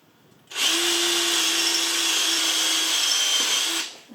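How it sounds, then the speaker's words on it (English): A power drill bores out a fastener head on a VW TDI CJAA diesel engine, one sustained high whine of about three seconds that starts and stops abruptly, steady and close. "I just drilled out the hat. I'm doing the same on this one."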